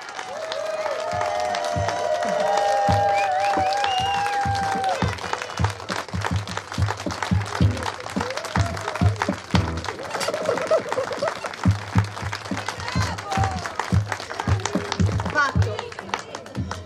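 Crowd of listeners clapping at an open-air pier performance by the sea, a continuous wash of applause with scattered individual claps, voices talking over it through much of the stretch.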